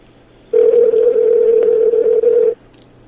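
A single steady telephone tone holds for about two seconds during a live phone call, loud and close, then cuts off into quiet line hiss.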